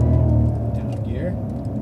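Cadillac CTS-V engine rumbling low and loud on a race track as it drops a gear, the revs rising briefly then settling, with a person talking over it.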